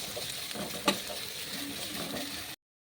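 Onions sautéing and being stirred in a pan while cooking Kerala-style fish biryani, a steady soft sizzle with faint scraping stirs and one brief sharper clank near the start, close and continuous without talk.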